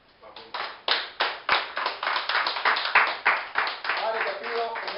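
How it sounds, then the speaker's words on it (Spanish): A church congregation at a sermon in Bogotá claps together, a dense run of sharp hand claps that swells into steady, loud applause for several seconds, with no speech over it. "den un aplauso al Señor"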